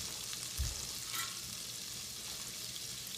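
Butter sizzles steadily in a pan, a constant crackling hiss with a brief low thump partway through.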